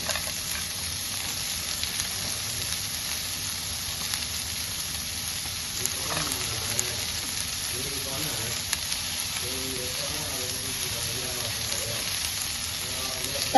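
Cashews and onions sauté in a pan for a homemade shahi paneer, a steady, close hiss of sizzling oil that continues unbroken, with faint talk toward the end.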